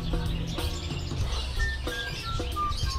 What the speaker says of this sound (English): You're a pretty bird.